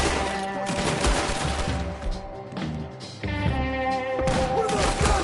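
Rapid, loud bursts of gunfire crackle in a dense volley, dip briefly in the middle, then resume just as hard.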